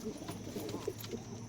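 A pigeon being handled and held close, giving soft, low, faint cooing murmurs against light background noise.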